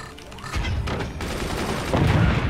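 Mortar fire striking an enemy fort in the game Forts: a dense fusillade of booming impacts and crackling bursts, loud and continuous, with heavier thumps near the end.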